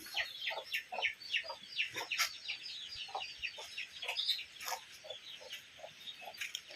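A hen clucks repeatedly in short, rhythmic bursts, fairly close, with soft farmyard ambience behind.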